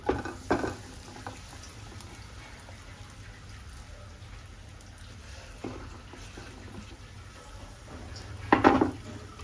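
Pizza pieces sautéing in hot oil in a home kitchen pan, a steady soft sizzle throughout with a few louder stirring scrapes near the start and end, no talking.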